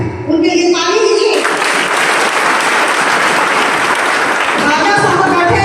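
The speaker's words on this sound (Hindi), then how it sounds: "हमारी परवीन है, श्री राम का चोगा पहनकर बैठी है, उनके लिए ताली दीजिए।" Audience applause for Parveen, a woman seated in a Shri Ram robe, at a political gathering with an MP, breaking out after a voice and swelling into sustained, loud clapping from a large crowd.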